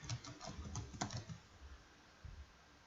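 A short word typed on a computer keyboard as quick, soft, close key clicks, then a quiet pause and one more light tap.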